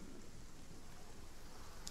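Steady, faint rainfall in the survival video game ASKA, an even hiss with no talk and no change across the short stretch.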